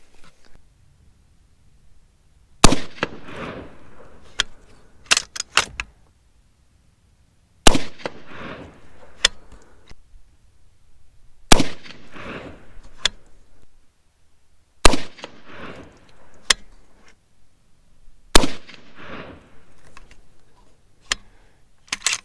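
Rifle shots from 6mm ARC handloads, including a CFE 223 charge, ring out one at a time at intervals of a few seconds, each a sharp loud crack with a short decaying tail, with faint handling noise between them.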